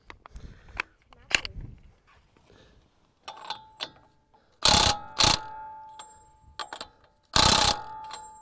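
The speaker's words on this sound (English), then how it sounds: "next thing I do is gonna loosen that axle nut off" A ratchet wrench with a 36 mm wheel socket works loose the axle nut on a 2020 Ram 1500 during a CV axle change outdoors, giving several loud, sharp bursts of clicking between quieter clanks, with no talking.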